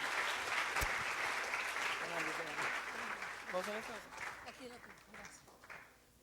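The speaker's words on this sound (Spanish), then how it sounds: "Un último aplauso al Señor con todo su corazón." A church congregation applauds at a youth drama service, the clapping dense and sustained while a voice speaks over it, the noise thinning out toward the end.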